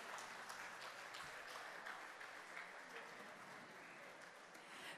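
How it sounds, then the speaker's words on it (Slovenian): A hall audience at an accordion competition gives a long, even wash of applause for all the competitors, faint and heard from a distance. "prosim za en velik in iskren aplavz za vse tekmovalce"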